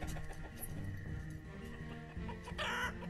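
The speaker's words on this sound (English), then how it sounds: "Chicken." Chickens cluck in the village-building game Banished, repeated soft clucks and calls layered over a steady game ambience, fairly faint and with no talking.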